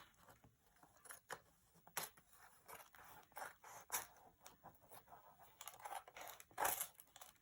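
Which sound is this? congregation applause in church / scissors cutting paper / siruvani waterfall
scissors cutting paper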